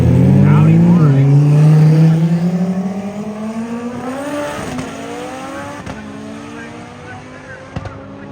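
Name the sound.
Audi race car accelerating in roll racing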